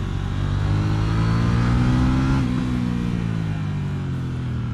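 A 2018 KTM 790 Duke motorcycle accelerates on a launch ride near Şile. The engine drones loud and close, its pitch rising steadily before easing slightly, with no voices.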